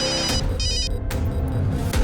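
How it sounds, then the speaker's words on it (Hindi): A mobile phone rings indoors in repeated short electronic tone bursts, moderately loud and steady against a quiet room. "सरस्वती, अगं मोबाईलची रिंग वाजते, बघ जा कोणाचा फोन आहे बघ."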